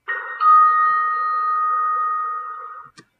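A Mitsubishi lift chime, recorded on site, rings as one loud sustained electronic tone lasting nearly three seconds before cutting off with a brief click.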